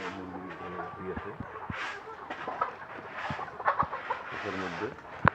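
Chickens cluck and murmur inside a poultry house, a steady flock chatter with a few sharper calls and clicks rising now and then, moderately close.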